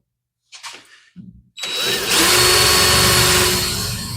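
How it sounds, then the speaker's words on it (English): A power driver bores through an exhaust paint filter in a garage body shop, with a couple of short bursts first, then a loud, close, steady whirring grind for the rest of the clip. "Now my driver will have no problem finishing the hole."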